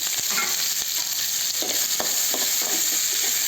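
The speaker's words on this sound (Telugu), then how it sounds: "ఇప్పుడు ఆనియన్, పచ్చిమిరపకాయలు, కరివేపాకు ఇవి 3 వేసుకోండి." Onion, green chilies and curry leaves frying in a pan for gunta ponganalu, a steady hiss of sizzling oil with occasional scraping stirs and light clinks, close and continuous.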